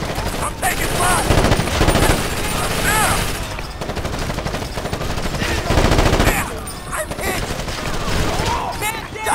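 Sustained automatic gunfire from a firefight in the video game Ghost Recon Advanced Warfighter rattles densely throughout, in long bursts with brief lulls, loud and close.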